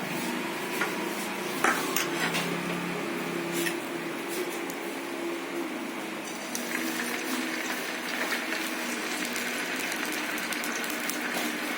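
Marinated sankara fish fries in hot oil, producing a dense, steady sizzle and bubbling with occasional sharp spits and clicks throughout.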